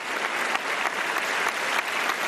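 Steady applause from a studio audience on a religious knowledge quiz show, dense and continuous, with even clapping throughout and no speech over it.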